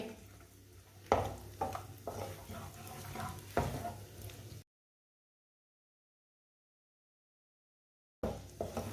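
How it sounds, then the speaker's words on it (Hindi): Semolina (sooji) roasting and being stirred in hot oil in a pan, with soft scraping stirs and a faint sizzle close by, a gap of silence midway, then more stirring. "सौंगी को ना थोड़ा सा रोस्ट कर लेंगे, 1 मिनट के लिए पका लेंगे"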